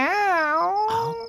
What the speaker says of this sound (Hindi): साला बिल्ली ने भी परेशान करके रखा है।